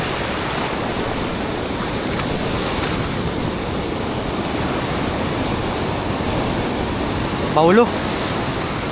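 Strong river current of rushing water during fishing, a steady broad roar throughout with a brief voice calling out near the end.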